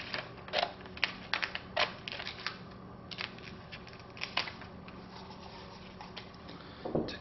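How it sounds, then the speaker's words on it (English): Quick, close snips of scissors cutting material while assembling lightsaber blades come in short irregular bursts over a quiet room, with brief pauses between cuts. "just cut here at the end with a pair of scissors"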